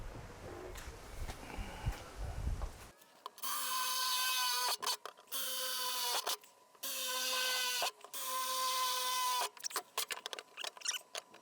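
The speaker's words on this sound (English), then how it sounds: "We'll mark it out and drill it." A power drill bores holes for a battery relocation in a car, whining loudly in long sustained bursts with brief pauses and stops between holes, after a few seconds of quieter handling noise.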